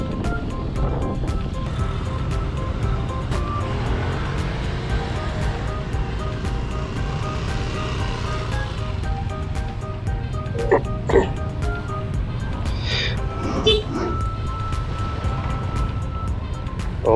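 Traffic jam with cars and water tanker trucks near Catu, Padang, heard from an electric motorbike, a steady low rumble of idling engines with a few passing honks and horn blasts, while someone talks.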